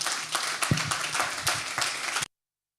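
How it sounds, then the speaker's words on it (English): A live audience gives dense, steady applause after a business talk; many hands clap together for about two seconds before it cuts off abruptly, with no voices over it. "Another round of applause for Topsy, please."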